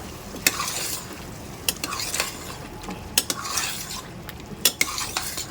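Goat liver with yogurt and green masala stirred and fried in a pan, a spatula scraping and clattering against metal in repeated sharp strokes over a low sizzle, close up with no talk.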